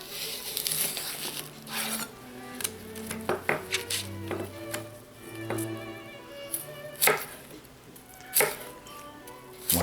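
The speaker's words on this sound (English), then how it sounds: "Slice the carrot lengthwise 4 times." A knife cuts a large carrot lengthwise on a board with a series of sharp, irregular clicks and knocks, fairly close and moderately quiet, with low tonal hum and soft rustling between strikes.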